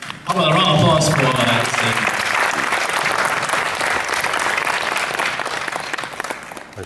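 Sustained applause from an audience, dense clapping that swells quickly and holds steady at close range, with a voice briefly audible at the start.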